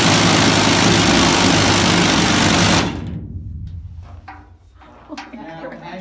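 Rock drill with a 2-foot bit running about 1000 feet underground in the granite Mollie Kathleen Mine, a loud, steady hammering roar that cuts off abruptly after about three seconds, leaving low rumbling echoes and clanks.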